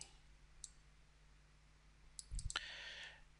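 A computer mouse clicks a few times while someone works in AutoCAD Plant 3D 2017. The clicks are soft, isolated and close, over a quiet room hum.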